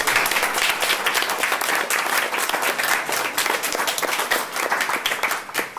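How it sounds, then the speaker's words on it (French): Steady, dense applause from a university lecture audience fills the whole stretch, many hands clapping together at an even loudness. "je crois qu'on peut les applaudir"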